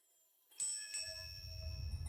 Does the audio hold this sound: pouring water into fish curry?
no